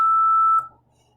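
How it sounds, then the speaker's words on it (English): Single electronic beep from a workout interval timer, a sharp steady tone held for just over half a second before cutting off into quiet room noise. "Now the beeps want to work."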